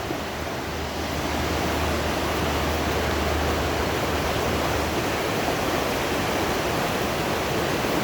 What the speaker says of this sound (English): When it's like this, it's one of the fastest flowing rivers from source to the sea.